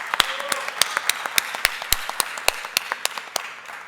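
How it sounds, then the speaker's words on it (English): Applause rings out at a foundation conference plenary session, with sharp, distinct hand claps landing in a quick irregular patter over a softer wash of clapping from the crowd. "I feel like we need to have a round of applause here"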